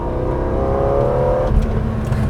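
A BMW E46 M3 engine revs high with a steady rising whine that drops off after a moment, heard from inside the car.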